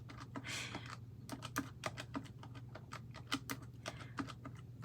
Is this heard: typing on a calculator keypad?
yes